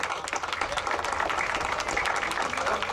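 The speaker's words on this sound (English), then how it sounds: "Give a round of applause, Team OG." Sustained applause from an audience honoring a veteran Louisiana hog hunter, dense steady clapping throughout at even loudness.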